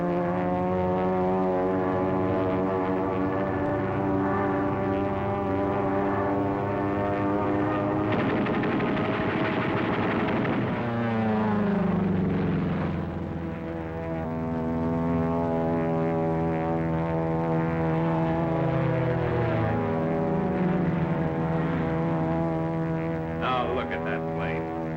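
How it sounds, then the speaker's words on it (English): A P-40 propeller fighter plane drones loudly and steadily throughout with a rising and falling engine tone, while voices talk over it. "Look at that plane. That's no Zero, that's a P-40."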